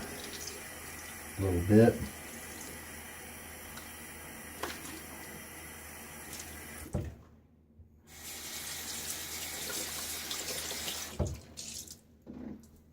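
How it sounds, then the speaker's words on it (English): A bathroom sink tap runs water while a shaving brush is rinsed out, with a steady close splashing flow broken by brief pauses and clunks, and someone speaks briefly over it. "I'm going to put that brush in my lather bowl, and I'm going to rinse this out"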